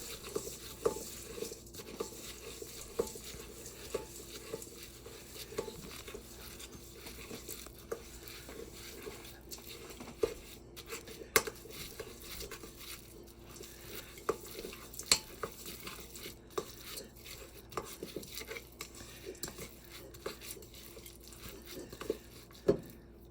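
Banana oatmeal cookie dough being stirred and mixed in a bowl, soft irregular scraping and light taps of a utensil repeating quietly throughout, close and faint with no voices.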